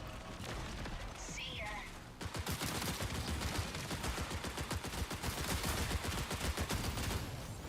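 Rapid automatic gunfire in the shooter game Marathon. A quieter passage with a voice comes first, then a long burst of evenly spaced, close, loud shots carries on to the end.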